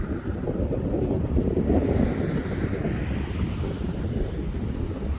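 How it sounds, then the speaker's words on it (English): Gusting wind roars steadily across the microphone for several seconds, a heavy low rumble rising and easing slightly, with no voices. "the sun is out, the skies are blue, but that wind is really gusting up."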